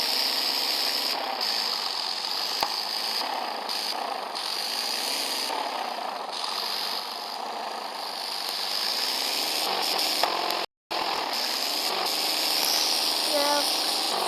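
A vehicle engine runs in a steady, droning roar as it drives off, holding an even loud hum for the whole stretch apart from one brief cut-out near the end.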